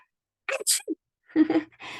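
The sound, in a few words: person imitating a sneeze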